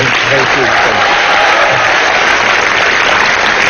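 Loud, dense studio audience applause on a comedy talk show, a steady wall of clapping sustained throughout with a faint voice low underneath.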